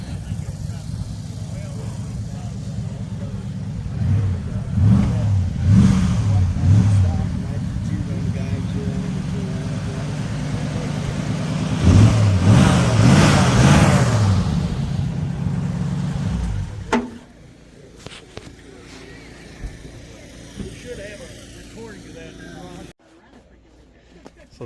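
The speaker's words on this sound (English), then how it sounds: "Sounds like they've got the 37 Ford flathead fired up." A 1937 Ford flathead engine in an old truck idles with a low rumble and revs up twice in rough bursts at an antique car and truck auction preview, then the rumble falls back quieter, with voices nearby.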